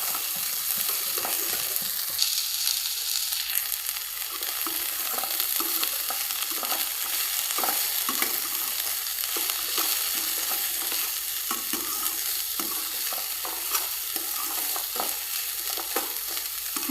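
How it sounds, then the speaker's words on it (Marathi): Green chillies and peas sauté in a pan for Maggi, a continuous nearby sizzle broken by repeated scraping stirs of a spatula. "वाटाणे टाकल्यानंतर आता आपण मिरच्या टाकतोय. याला आपण छान असं परतून घेऊयात."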